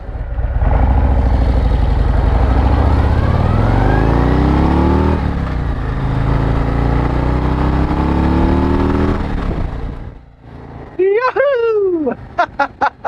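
A motorcycle engine while riding, loud and close with rising and falling revs through gear changes and steady wind noise for about ten seconds before it quiets, followed by a voice.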